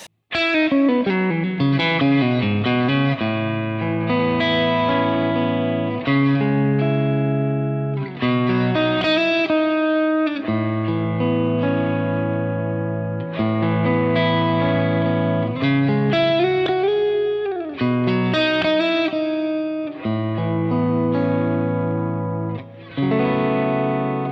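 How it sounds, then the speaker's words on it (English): Overdriven electric guitar through a Vox-style amplifier with a chiming, slightly distorted tone plays a riff of chords and single notes, full and continuous. "This is a really cracking sounding Vox style amplifier"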